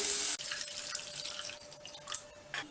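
Tamarind water poured steadily into a pot, a close, splashy flow with a brief break and a few drips at the end.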